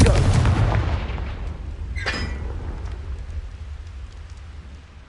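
Confringo fire spell blasting in Hogwarts Legacy on PS4: a loud explosive burst with a rushing crackle that slowly fades, broken by a sharp crack partway through.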